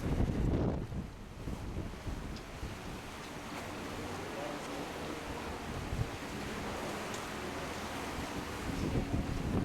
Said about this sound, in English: The waves out on the ocean do look a little bit rough